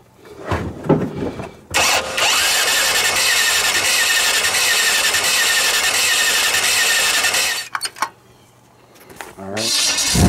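A turbocharged Chevy Nova engine spins over with the ignition off to prime fuel, a loud sustained whirring crank running several seconds, then stopping, then a brief restart of cranking.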